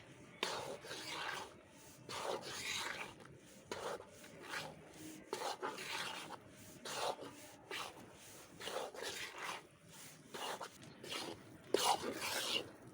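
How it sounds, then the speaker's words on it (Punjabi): Flaxseed is stirred into gram flour in a bowl, producing soft rhythmic scraping and rubbing strokes in repeated bursts, close and fairly quiet, with faint background noise. "ਅਲਸੀ ਪਾ ਕੇ ਇਹਨੂੰ ਚੰਗੀ ਤਰ੍ਹਾਂ ਮਿਕਸ ਕਰ ਲਾਂਗੇ"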